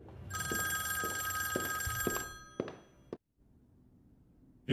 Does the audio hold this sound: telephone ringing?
yes